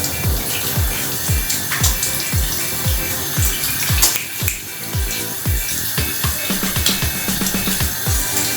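Hands being washed with soap under a running tap, a steady close rush of water with rhythmic rubbing and splashing throughout, no voices.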